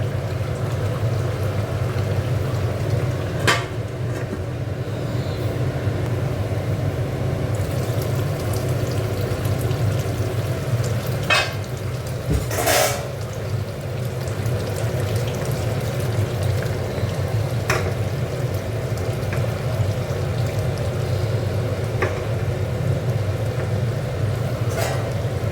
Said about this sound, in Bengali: ঝোলটা এবার ফুটুক।